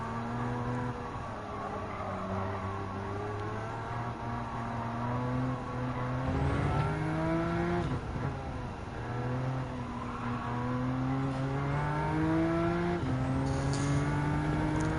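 Porsche 911 Turbo S of the Type 992 generation racing in the Gran Turismo 7 video game, its engine droning and rising through gears with repeated shifts and a steady, close, continuous roar.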